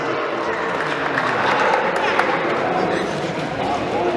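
Guests at a 50th birthday party in Paraguay applaud loudly and continuously, a dense wash of clapping mixed with crowd chatter, fairly near and even in level.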